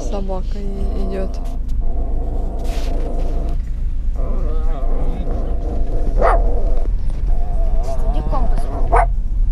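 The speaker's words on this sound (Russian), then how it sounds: "О, там собака идет." A dog barks a few times outdoors in a town near the Latvia–Russia border crossing, the sharp yips rising above a constant car rumble while people talk throughout.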